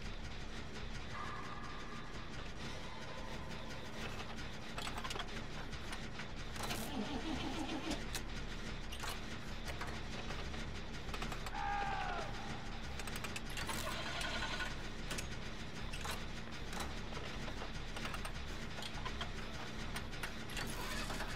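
A portable generator with a starter-motor-like sound being cranked and started, a whirring, grinding engine noise with a low running drone throughout and no voices.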